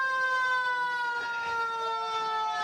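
A fire engine siren wails with a steady, sustained tone at a Christmas parade in Redlands, loud and continuous with a slight pitch drift and no speech over it.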